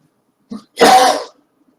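A single short sneeze, loud and close, preceded by a brief faint intake of breath, then silence.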